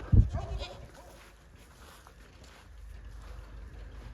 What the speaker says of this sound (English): here we have a goat that is stuck in, it doesn't want to go out in the rain